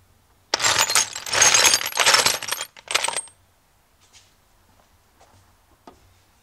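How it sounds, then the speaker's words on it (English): Metal bolts clatter and jingle loudly as a hand rummages through a pile of them for about three seconds, then a few faint clinks follow in quiet. "I'm going to go rummage around in my bolts to find one."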